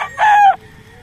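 A yellow-legged hatch gamefowl rooster with a straight comb crows once, a loud, close, short call that cuts off abruptly over a quiet farm background.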